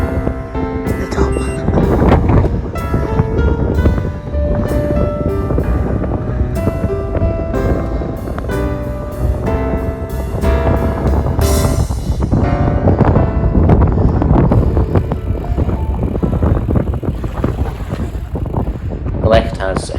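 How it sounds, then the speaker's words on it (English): Headwind buffeting the microphone during a road bike climb in Morayshire, a loud, continuous rushing roar that fills the whole stretch, with gusts swelling and easing. "Have a headwind though."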